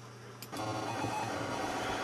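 Emulated 1960s Elliott 803 computer running, starting with a quiet tone, then a sharp click and a steady, busy mechanical whirring and chattering hum at low level, with no talking.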